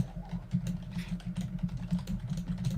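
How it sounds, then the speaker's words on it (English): Fast typing on a computer keyboard, heard as a steady stream of close, sharp key clicks with an irregular rhythm over a low background hum. "your typing is always loud as hell"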